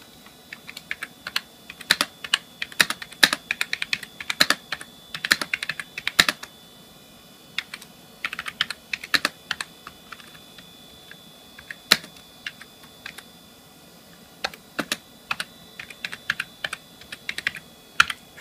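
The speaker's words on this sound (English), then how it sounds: "I'll give you a demonstration of the keyboard and how it sounds" Computer keyboard on a secondhand machine being typed on in bursts of irregular, close, crisp key clicks, with brief pauses between runs and no talking.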